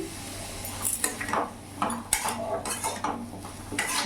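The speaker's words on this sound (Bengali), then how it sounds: "ভালো করে নাড়াচাড়া করে মিশিয়ে নেব।" A spoon stirs papaya and prawns with cumin and chilli powder in a pan, producing repeated clattering scrapes and metallic knocks against the pan in an uneven rhythm, close and fairly loud, with no voices.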